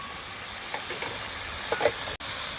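Broth poured over drumsticks and pointed gourd cooked in spice masala for a hilsa fish curry, producing a steady, moderately loud sizzling hiss with a few bubbling bursts, then a brief dropout near the end.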